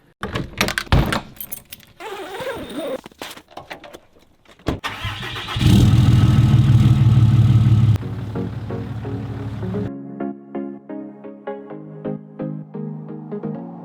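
Keys jangle, a door shuts and a truck engine cranks and starts, then settles into a low idle with quieter clicks and rattles close by.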